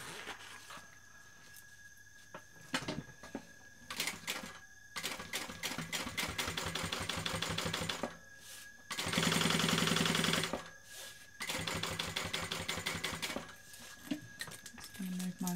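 A sewing machine top stitches the lining of a BeHip 2.0 bag in several rapid, rattling bursts, with short pauses between runs and one loud, dense stretch in the middle.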